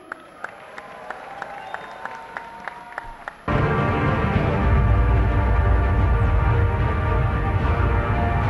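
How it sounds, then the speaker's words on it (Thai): Crowd applause welcoming a Muay Thai fighter into a ring, at first a few scattered claps under faint voices, then a sudden loud, dense roar of clapping and crowd noise that fills the rest. "ขอเสียงปรบมือดังต้อนรับเข้มสิทธิ์สองพี่น้อง"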